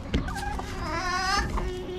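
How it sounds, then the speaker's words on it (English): Chickens on a small farm kept alongside rabbits, giving a close, steady run of clucking and squawking calls with a few sharper cries over a busy farmyard background. "chicken! Yeah, a chicken."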